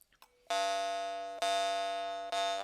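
A bright, buzzing twang from an Iverson Munnharpe jaw harp rings out three times, each note sustaining with a rich metallic, bell-like drone before the next pluck.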